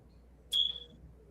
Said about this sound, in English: alarm is chirping